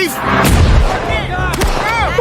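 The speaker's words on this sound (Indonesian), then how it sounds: "Dan tembak-tembakan pun terjadi." Loud bursts of gunfire erupt in a dramatic film shootout scene, with sharp cracks amid swelling music and sound effects.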